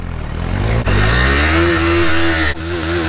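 A TVS Apache RR310 motorcycle revving hard during a tire burnout, a loud, strained engine note climbing and holding at high revs, briefly dipping twice between sustained bursts.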